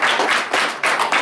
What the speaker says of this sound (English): So if we can give them a round of applause, please.